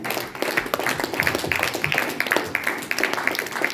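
A church congregation claps in a steady rhythmic beat, many hands together filling a room, with a few voices calling out beneath the clapping.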